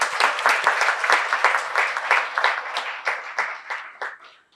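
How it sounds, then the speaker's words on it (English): Conference audience at an inaugural session giving a round of applause, a rapid, rhythmic burst of many hands clapping that swells and then tapers off at the end, with no talk over it. "May I request everyone to join me in giving him a big round of applause, please."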